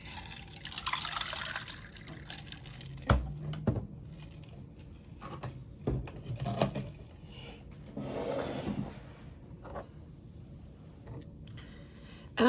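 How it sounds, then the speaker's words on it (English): A water container is filled at an acrylic painting table: intermittent trickling and splashing pours with a few clunks and knocks, quiet and close, with no speech. "Filling out my water here."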